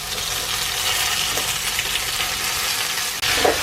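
Cooked tapioca is stirred into onions frying in a pan for Kerala-style kappa biryani, giving a dense, continuous close sizzle with occasional faint scrapes and a brief clatter near the end, no voices.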